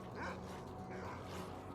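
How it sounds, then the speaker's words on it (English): Dogs bark and yip while chasing a boar in STALKER: Call of Pripyat, a short run of faint, distant barks over a low ambient game drone. "I think the dogs are just chasing a boar."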